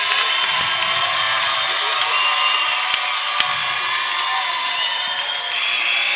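Arena crowd roaring and cheering at the final buzzer of an NCAA men's basketball tournament first-round game, Purchase State beating Hartwick 97-71; a dense, loud, sustained wall of cheers and whoops with a couple of sharp spikes.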